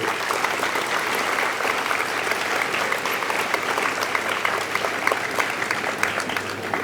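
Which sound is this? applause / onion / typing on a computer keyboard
applause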